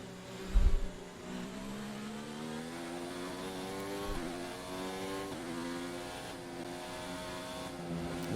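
A Formula One car in F1 2019 runs down a straight with its DRS open, a steady high engine whine climbing in pitch, dropping at each quick upshift and then climbing again, with a thump early on.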